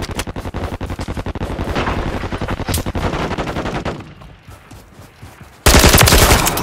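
Rapid automatic fire from a Kastov-74U assault rifle in a Call of Duty MW3 team deathmatch on the Derail map, long dense bursts of close, loud shots, a brief lull with thinner distant firing, then a sudden louder burst.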